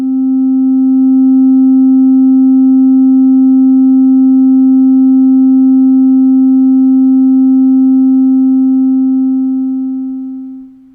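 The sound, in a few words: sine wave output of Eurorack VCO modules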